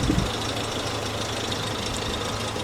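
A Nissan Terrano engine idles at a steady, even rumble with a faint knocking texture, heard close and alone with no talk over it.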